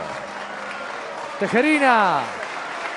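A boxing crowd applauds at the close of the Luis Tejerina vs Alberto Sánchez fight. The steady, distant clapping runs beneath an announcer's voice as it rises and falls.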